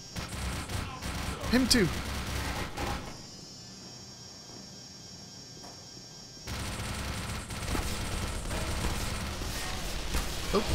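Gunfire in the video game Black Mesa: dense, loud bursts of shots with a quieter lull in the middle, while someone talks over the action.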